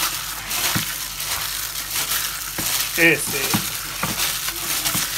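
Boiled potatoes and shredded chicken being mashed and stirred together in a bowl: soft squelching and scraping with occasional clinks of a utensil, while someone speaks briefly.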